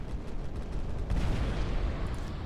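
EMP cannon fire in the sci-fi strategy game Final Theory, a dense, loud rumbling barrage of blasts sustained throughout with no talking over it.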